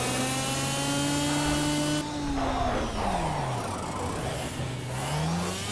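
Racing car engine in a video game revs and accelerates, its steady whine sliding up and down in pitch as gears shift, loud and continuous with no voices.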